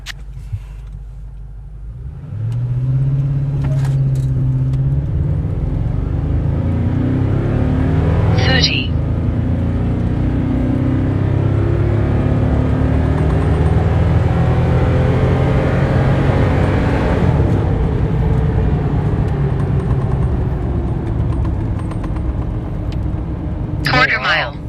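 A stock Toyota Tundra pickup of about 7,500 pounds with 380 horsepower makes a 0-60 run, its engine revving up in a long, loud, steady roar that climbs and drones on with faint clicks and shifts.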